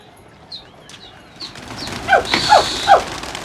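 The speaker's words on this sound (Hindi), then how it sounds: "सब लोग कबूतर खुला हुआ है, कैसे भाई दौड़ रहा है कबूतर।" Freshly released domestic pigeons flutter and take off nearby, a few soft wing flaps early on, then three louder rising whoosh-like calls or wingbeats at steady intervals over a busy outdoor background.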